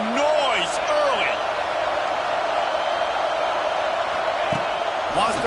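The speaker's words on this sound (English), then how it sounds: "This crowd bringing the energy and noise early" Stadium crowd roar in a football video game, a steady loud wash of cheering throughout, with brief whistle-like tones and sharp thuds rising over it.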